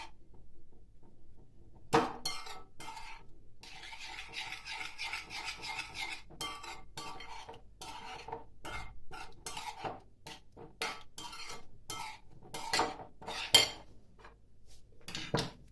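Plates and cutlery clatter and clink repeatedly as dishes are stacked and put away, a steady run of close kitchen knocks with no talking.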